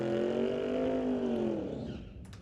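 A Mustang sportsman drag racing car in the water box at a drag strip, a loud engine roar with sweeping revving tones that fades off toward the end.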